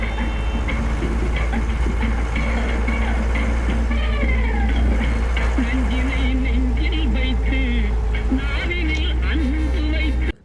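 A bus travels along the road in a scene from the film Nanpakal Nerathu Mayakkam. A steady low engine rumble runs throughout, under voices and other wavering sounds layered on top.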